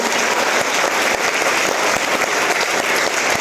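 Sustained, loud applause from a big audience at a motivational business seminar, a dense roar of clapping hands that holds steady throughout with no speech.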